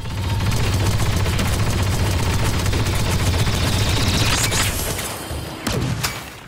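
Heavy guns in Star Wars Battlefront 2 fire in a dense, sustained barrage of booming blasts and explosions during a Capital Supremacy battle, rumbling continuously and then tapering with a final crack.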